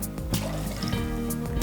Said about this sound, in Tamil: தேவையான அளவுனா 1 கப்பு மாவுக்கு 2 கப்பு தண்ணி சேர்த்துக்கோங்க.